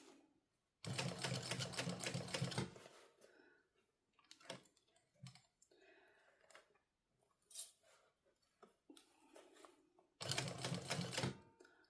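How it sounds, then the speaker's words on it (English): A sewing machine stitches the top seam of a crossbody bag in two fast, loud whirring bursts, separated by quieter clicks and handling of fabric. "Stitching the top seam"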